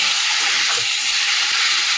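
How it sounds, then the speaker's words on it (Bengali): Spiced chicken dropped onto fried onions in hot oil, a loud, close, unbroken hissing sizzle that fills the whole short stretch without any voices. "এর মধ্যে যে চিকেনটা যে মশলা মাখিয়ে রেখেছিলাম ওটা দিয়ে দিচ্ছি।"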